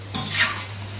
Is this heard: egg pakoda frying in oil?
yes